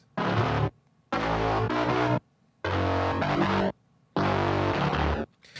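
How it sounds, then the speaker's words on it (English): A buzzier, brighter synth bass plays four sustained phrases with gaps of silence between them, each holding a rich, growling low tone. "The bass sound, I used two different synths."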